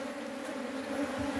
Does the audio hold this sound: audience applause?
no